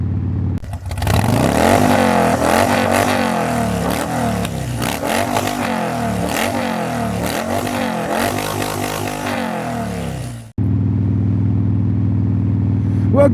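Motorcycle riding in 30-degree cold weather in Columbus, Georgia, with a loud, close engine drone that rises and falls through repeated gear changes, then drops abruptly to a steady lower hum.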